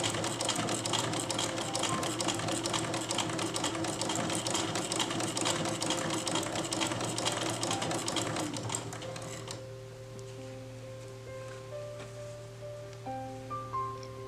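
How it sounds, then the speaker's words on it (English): Sewing machine fitted with a ruffle foot gathering fabric for a petticoat, running in a steady dense rapid stitching whir that cuts off partway, leaving quieter background with faint tones. "use a ruffle foot on your sewing machine"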